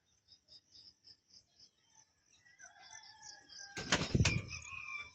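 Soft rhythmic chirps give way to a sudden burst of loud wing flaps close by, a red bar racing pigeon taking off in a loft.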